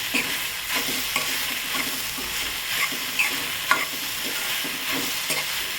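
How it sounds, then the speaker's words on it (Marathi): Puffed rice (murmure) stir-fried in a pan, a continuous dry sizzle with repeated scraping and tossing strokes from a spatula at a steady rhythm, close and fairly loud. "यामध्ये हे मुरमुरे घालून घ्यायचे. याला परतून घ्यायचं 5 मिनिट."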